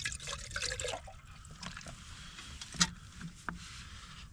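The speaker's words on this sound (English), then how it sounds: "I'm just going to chuck like a good amount of water in here." Water poured into a camping food pouch on a mountain, a steady trickling gush with a few splashy drips and rustles, close by and moderately loud, no voices.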